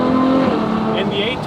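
A Ferrari 812 Superfast V12 on a racetrack, engine droning loud and close with a rising whine and a brief squeal of tyres, under speech.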